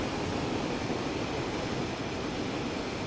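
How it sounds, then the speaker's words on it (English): An intermodal freight train rolling past in Train Sim World 6 on the West Coast Main Line, a loud continuous roar of wheels and rail noise, steady and close throughout. "Oh, is that another freight train? What was that? Like another intermodal."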